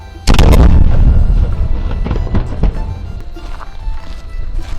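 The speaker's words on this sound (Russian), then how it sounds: "В полдень поприсутствовать на церемонии стрельбы из пушки." A single loud, deep boom from a ceremonial cannon firing bursts out at noon, then rolls and echoes away outdoors with faint crowd noise afterward.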